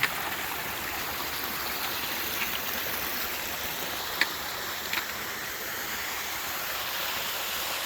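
A creek flows steadily beside a small waterfall on a wooded trail in Devil's Den State Park, giving a constant broadband rush of water with a couple of faint clicks and no talking.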